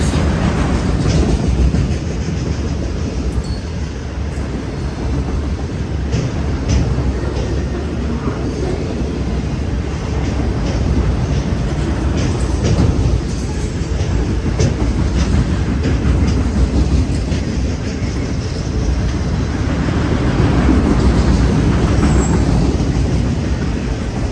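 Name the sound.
CN freight train 508 passing with manifest cars and auto racks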